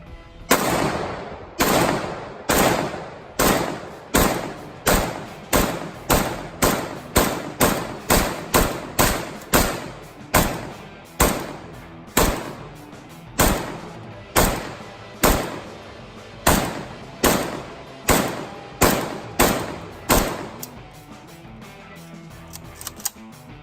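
Long series of loud, sharp gunshots, around thirty single shots fired into a student backpack, steady at first and then quickening before spacing out again, each one ringing briefly, with no talk.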